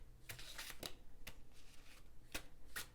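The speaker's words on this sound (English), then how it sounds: "as I'm like shuffling these cards" Nocturna tarot cards being shuffled by hand: a quiet sequence of crisp riffling bursts and soft slaps, about six distinct shuffles at an uneven pace, close and intimate with no speech.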